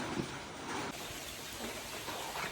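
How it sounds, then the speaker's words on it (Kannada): Heavy rain falls during a red-alert downpour in Ankola taluk, a faint, steady hiss of wash and patter without a break, with no clear voices. "ಭಾರಿ ಮಳೆ, ತುಂಬ ಮಳೆ ಇರೋದ್ರಿಂದ ರೆಡ್ ಅಲರ್ಟ್ ಇದೆ"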